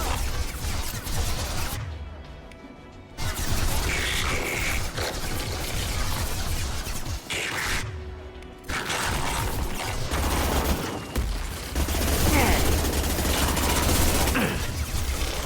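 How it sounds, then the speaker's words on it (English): Dense, sustained gunfire rattles through a firefight in the video game Mass Effect 2, with overlapping bursts and impacts. There are two brief lulls, and the shooting is loudest near the end. "We've been spotted. Taking heavy fire."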